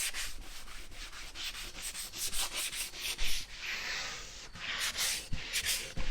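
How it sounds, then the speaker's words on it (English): Sanding the deck of a Kawasaki SXR 1500 stand-up jet ski to rough it up for mat glue, a continuous close scratchy rubbing in uneven back-and-forth strokes. "So the next step is sanding."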